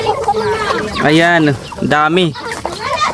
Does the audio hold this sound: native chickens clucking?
yes